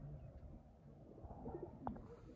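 Pigeons coo in a low, soft murmur close by, with a brief brighter call near the end over steady background noise.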